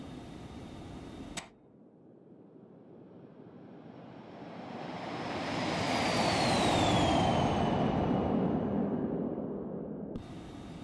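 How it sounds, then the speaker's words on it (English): The Phenom 300 light business jet in X-Plane 11 gives a steady engine roar that slowly swells to a peak, with a faint descending whine, then eases off, heard alone without talk. "What a fun little jet."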